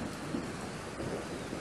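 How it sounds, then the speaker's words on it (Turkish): Steady rain pouring down as a film sound effect, a dense continuous hiss of drops with no voices. "7 numara, yağmur."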